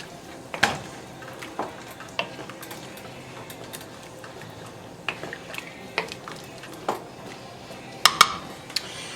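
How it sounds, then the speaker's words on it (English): Spoon stirring fish broth with cloves in a pot: scattered light clinks and taps against the metal at irregular intervals, soft and close, over a quiet kitchen background with no talk. "Give it a little stir."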